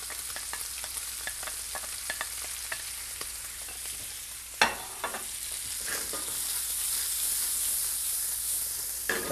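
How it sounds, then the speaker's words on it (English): Onions sautéing in melted fat for a tarte flambée, a steady close sizzle and hiss with soft scattered pops and occasional stirring clicks, one sharper knock midway, no voices. "that's enough fat then to saute the onions"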